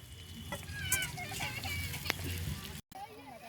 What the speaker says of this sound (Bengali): ফুলকপি আর আলুগুলো মশলার সাথে খুব ভালো করে ভেজে নিয়েছি